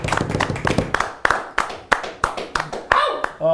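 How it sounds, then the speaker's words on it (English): Scattered applause from a live late-night show audience at a Smash Summit gaming event, a handful of distinct sharp claps at an uneven pace, close and fairly loud, with a voice briefly underneath. "A big round of applause."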